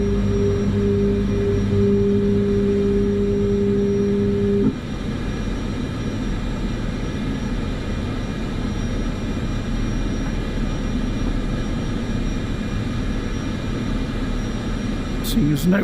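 Aircraft taxiing in Microsoft Flight Simulator 2024: a steady, loud engine drone with broadband rumble, a tonal hum that drops out after a few seconds, and the engine noise continuing evenly throughout.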